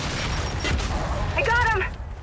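A frag grenade blast in the snowy Gears 5 battlefield, a loud broadband burst amid ongoing combat noise, with a voice shouting briefly over it.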